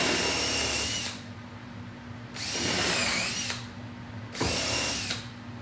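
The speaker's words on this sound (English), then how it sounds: "I've pre-drilled into the staves, but I'm going to countersink now." Power drill countersinking pre-drilled holes in oak wine barrel staves, three sustained whirring bursts of about a second each separated by short pauses, close and loud in a workshop setting.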